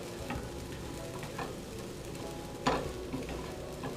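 Linguine and clams sizzling steadily in a hot pan, a constant frying hiss with a few soft stirring scrapes and clicks scattered through it.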